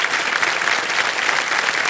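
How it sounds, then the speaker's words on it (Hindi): Steady, dense clapping from a studio audience on the KBC Season 16 quiz show set, cheering a contestant, loud and even without pause. "तालियां बजती रहे इनके लिए।"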